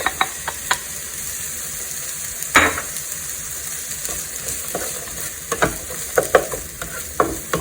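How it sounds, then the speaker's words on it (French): Onions sautéing in a pan sizzle steadily up close, with repeated scraping and stirring clatters from a utensil and no voices. "je vais faire revenir mes oignons juste pour quelques minutes"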